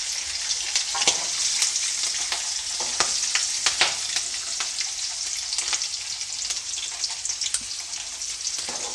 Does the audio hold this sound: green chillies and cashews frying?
yes